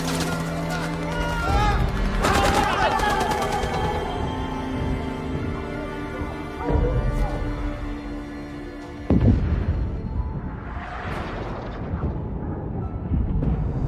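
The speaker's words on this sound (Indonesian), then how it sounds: "terdengar suara ledakan keras disusul rentetan tembakan dari udara" A war film's battle scene from The Covenant (2023) with heavy explosions and bursts of gunfire from an aircraft, booming and crackling amid music-like tones and turbulent noise, with loud impacts partway through.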